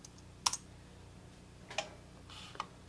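Typing on a Mac computer keyboard into the Spotlight search box: a few sparse, faint key clicks spaced irregularly over a quiet background hum, with no talking.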